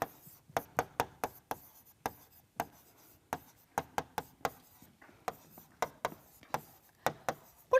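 A teacher writes on a classroom board during an intermediate Portuguese lesson, making a quick run of sharp, close taps and short scratchy strokes in an uneven rhythm, with no talking.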